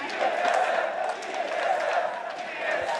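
An arena crowd at an esports League of Legends final roars in a steady wash of cheering and shouting. The sound is dense and continuous, without clear breaks.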